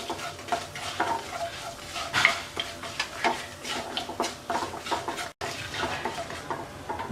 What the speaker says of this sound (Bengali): গোটা মশলাটা হালকা একটু ভেজে নেব।